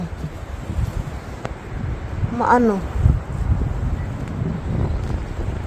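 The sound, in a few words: strong wind during a storm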